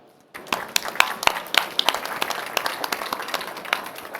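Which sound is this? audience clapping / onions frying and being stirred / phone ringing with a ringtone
audience clapping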